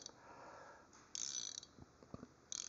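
Back-drag clicking of a Tekton XL double box flex-head ratchet wrench, broken in, turned backward by hand: a few short bursts of fine rapid ratcheting clicks, close and fairly quiet, with no talk.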